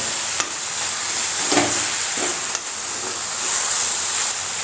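Steady hissing sizzle of spices tempering in hot oil for kachnar leaf greens, with a few soft clinks of a spoon stirring in the pan.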